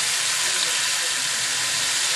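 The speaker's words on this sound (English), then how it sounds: "let these fry for about 5 minutes or so" Chicken tenders injected with mandarin, soy and butter deep-fry in hot oil, a loud, steady, unbroken hiss and sizzle with no pauses.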